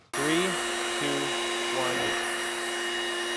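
A cordless leaf blower, Milwaukee or a cheap Pilento, blows sawdust, starting abruptly into a loud, close, steady whooshing roar with a whine that shifts briefly in pitch and then holds steady.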